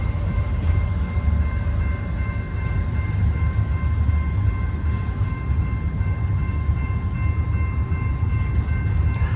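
Freight train passing through Lower Sworthout Canyon, a continuous low rumble of rolling cars with a faint steady hum, fairly distant and unbroken for the whole stretch.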